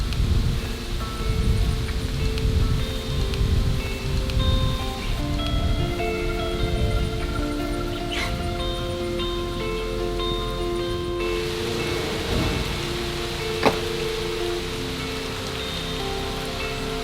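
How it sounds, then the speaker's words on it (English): Rain falls outdoors on a building site, a steady close patter and hiss of drops on surfaces that continues throughout, with a faint tonal hum and an occasional sharp tap. "And it started raining."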